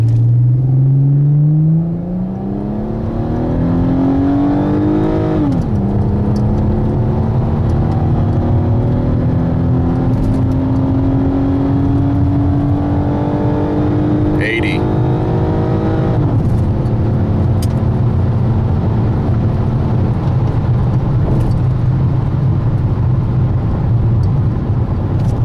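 A 2009 Dodge Challenger SE with a MagnaFlow exhaust accelerates from a standstill, its loud engine note climbing through two gear changes and then holding a steady droning cruise.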